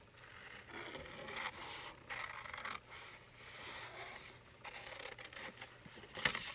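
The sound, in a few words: cutting out paper pieces for card making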